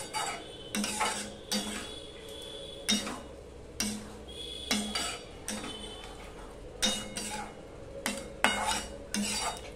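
Pointed gourd (potol) cooking in a pan, a spatula scraping and clinking in a regular rhythm of stirs over a faint sizzle, close and quiet, no speech.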